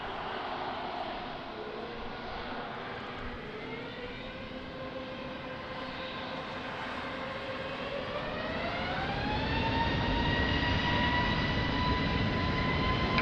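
An airliner takes off on runway 20 at Lisbon Airport in rain and wind, its engines building into a steady roar with rising tones that swell louder toward the end.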